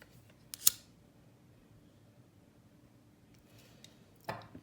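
Scissors snip through beading cord, leaving a short tail: one sharp close snip, then quiet, then a second crisp cut near the end.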